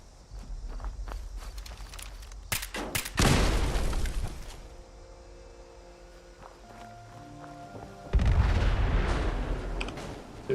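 Heavy blasts and gunfire boom in the Fallout 76 Fasnacht event, a sharp burst of loud explosions near the middle followed by another roaring blast toward the end, with footstep-like thuds and quieter stretches between.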